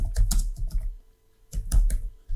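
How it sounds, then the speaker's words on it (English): Quick bursts of clicky keystrokes on a computer keyboard, two short flurries separated by a brief pause, close and crisp, with no talk. "I'm going to just go ahead and type Elastic"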